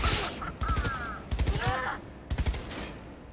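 Gunfire in the video game Cyberpunk: rapid bursts of automatic shots, loud and dense, repeating in three clusters with game effects ringing between them.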